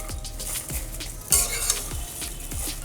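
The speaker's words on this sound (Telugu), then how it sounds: "కరివేపాకు అంతా వేగి మరమరలాడుతుంది చూడండి సౌండ్" Curry leaves roast in a pan over a low flame, giving a soft dry crackle and sizzle under steady, rhythmic stirring scrapes of a spoon. The sound is close and moderately loud, with one brighter clatter midway.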